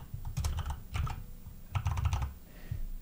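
Typing on a computer keyboard: a few quick clustered bursts of close, crisp key clicks with short pauses between them, no voices.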